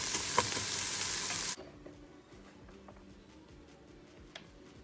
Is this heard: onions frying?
yes